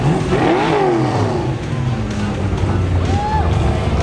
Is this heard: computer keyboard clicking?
no